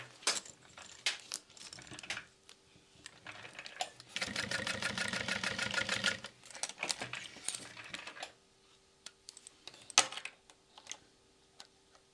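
A sewing machine runs a box stitch on a convertible hip bag strap, with a loud, steady burst of rapid needle clatter lasting a couple of seconds, set between quieter ticks and handling clicks.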